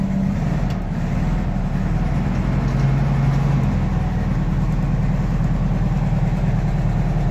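A 1970 VW Type II bus engine idling, a steady low rumble held evenly throughout, close and moderately loud.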